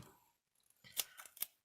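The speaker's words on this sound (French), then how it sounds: "Je vais prendre carrément le rouleau de scotch 3D et je vais en couper un morceau" Scissors snipping through a piece of 3D foam tape from a roll, several quick close cuts in a quiet room while making a handmade card.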